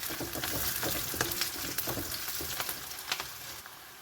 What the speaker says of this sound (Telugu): తాలింపు మగ్గుతుందండి